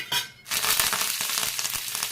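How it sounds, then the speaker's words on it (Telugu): Tempering spices hit hot oil with a sudden loud sizzle that settles into a steady, close crackling hiss, with light stirring clicks and no voices. "కొద్దిగా ఆయిల్ వేసుకొని వేడయ్యాక పోపు దినుసులు వేసుకోవాలి"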